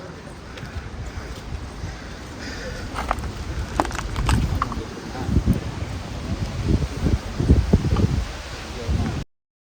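Gusty outdoor wind in the mountains rumbling against the microphone with rustling and some crunchy movement, growing stronger toward the end before cutting off abruptly.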